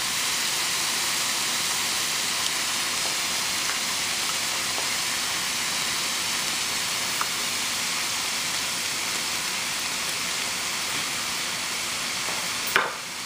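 Two eggs poured into a hot pan and scrambled while cooking Chinese rice, giving a steady, loud, unbroken sizzle and hiss with faint stirring scrapes throughout and a brief clink near the end.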